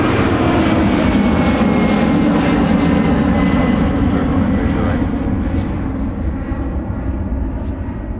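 Jet airliner engines roar steadily on the runway at Minneapolis–St. Paul airport, a loud, continuous broadband rumble that holds throughout and eases slightly toward the end, with no talk.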